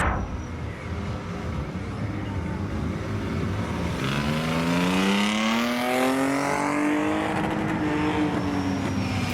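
A Japanese race car roars past on a circuit during a track day, engine pitch climbing through revs and shifting as it passes, loud over a continuous rush of track noise.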